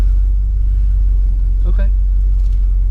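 The engine of a budget police car in need of repair runs after being shifted into drive, a loud, steady low rumble held close the whole time, with a brief faint knock partway through.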